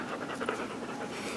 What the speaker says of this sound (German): Das ist der Hund.